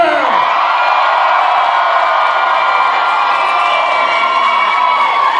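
An upper-level crowd at a Firefly convention panel cheers and whoops loudly and continuously, a dense wall of shouts and screams filling a large hall from start to finish.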